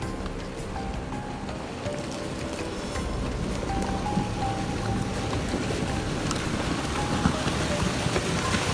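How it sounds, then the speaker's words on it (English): Floodwater from a flash flood during heavy rain, rushing as a steady, dense roar of water and rain that swells slightly partway through and holds loud to the end. "Big time flash flood here!"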